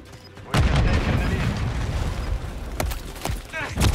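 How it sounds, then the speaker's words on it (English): A grenade explosion in the shooter game Modern Warfare 3 on PlayStation 5, a sudden loud blast followed by a few sharper bursts of gunfire and game effects. "tossing grenade!"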